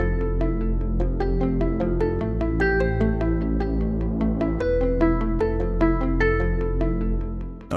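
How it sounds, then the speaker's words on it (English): An arpeggiated guitar synth preset in music software plays a steady run of plucked, bright notes over sustained low tones, cycling through chord changes with a clean, even rhythm and no talk. "This is an ARP guitar player."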